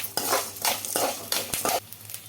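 Onions stirred in a pan, a metal spoon scraping and clinking against the vessel in several bursts of rhythmic strokes, fairly close.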